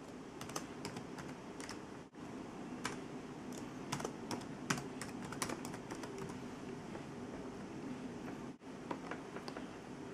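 Rapid, close typing on a computer keyboard, a dense run of light key clicks with two brief pauses, heard alone with no talk.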